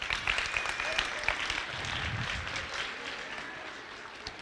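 Applause from a school assembly audience at a middle school anti-bullying event, a steady wash of clapping that holds through the clip and slowly thins, with faint voices mixed in.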